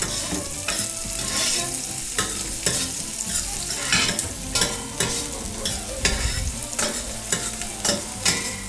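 Onions with a pinch of salt fry loudly in a pan, a dense close sizzle broken by frequent sharp scrapes and clatters as they are stirred.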